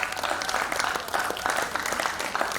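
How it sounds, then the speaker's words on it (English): Continuous crowd clapping for teachers at the COSPRA Summit 2023, a steady dense patter of many hands filling the short stretch. "Let's clap for the teachers."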